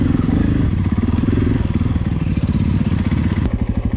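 A KTM 500 EXC-F dirt bike engine runs rough during night riding, its loud, close, low thumping firing pulses stuttering and uneven, with brief sharp clatters breaking through.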